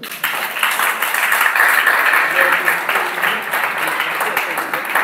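Church congregation clapping and cheering together in a sustained, dense burst of applause that holds steady for several seconds, loud and close with a roomy wash.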